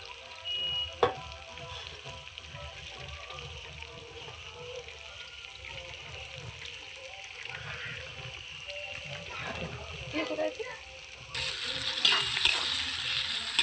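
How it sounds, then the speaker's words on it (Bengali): Spice paste for a fish curry sizzles steadily in hot oil as it is sautéed and stirred, a soft continuous crackle with occasional scraping, growing a little louder near the end. "দেখো মশলাটা সুন্দর করে কষিয়ে নিচ্ছি।"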